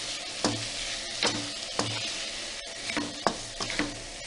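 Chicken with tomato sizzles steadily in a hot pan while a spoon stirs it in several distinct scrapes, close and fairly loud, with no talking.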